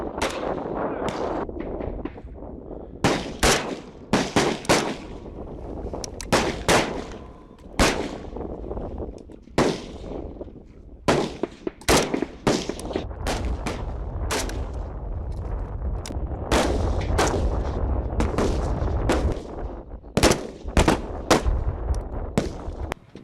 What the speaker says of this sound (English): Prone and kneeling shooting with the one shot each exposure.